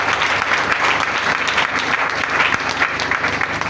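A church congregation claps and applauds, a dense and sustained wash of clapping hands that stays loud throughout, with faint voices mixed in.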